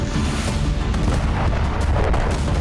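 A powerful blast rocks a weapons depot in Ukraine during a Russian drone attack, a dense rumbling boom with crackling bursts that rolls on continuously at high volume.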